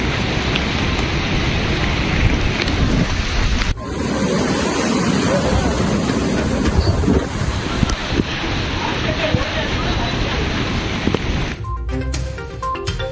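Strong cyclone winds and rough sea waves pounding the shore at Pamban where boats lie beached, a loud, continuous roar with heavy microphone wind buffeting that stays dense throughout before abruptly cutting to different background noise near the end.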